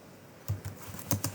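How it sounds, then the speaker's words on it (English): Several quick keystrokes on a computer keyboard while a command is typed in a terminal, loud and close, arriving as a short burst of clicks with no voice. "check if pip3 has been installed by typing pip3"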